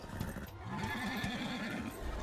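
A horse in the Darksiders video game, resisting being tamed, gives a loud wavering neigh, with hoof clatter and game noise around it.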